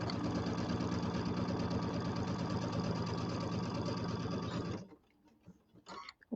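A sewing machine runs steadily, stitching around an envelope-back pillow with Pima cotton thread. It hums continuously and fairly close for almost five seconds, then stops, leaving only faint handling sounds.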